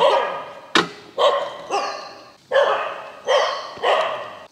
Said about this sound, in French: J'ai les chiens qui m'ont accueilli en aboyant.